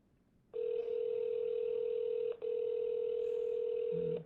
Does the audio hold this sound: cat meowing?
no